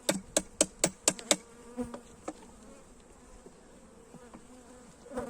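Honey bees hum faintly and continuously at a beehive during hive splitting in Burdur, while a quick run of sharp, close taps like a nail being pressed in cuts over the buzz, followed by a few scattered knocks.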